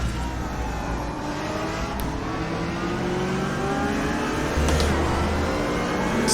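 A race car in the RaceRoom racing simulator drones steadily through a continuous engine note with shifting pitch, the revs rising and falling under a constant loud roar, with no talking.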